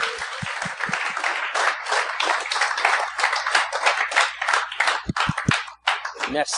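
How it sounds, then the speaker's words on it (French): Studio audience applauding guests Philippe Bond and Derek Frenette on a podcast, a dense, steady burst of many hands clapping close by that runs throughout, with a few sharp individual claps standing out. "J'aimerais ça qu'on donne une bonne main d'applaudissements pour mes invités"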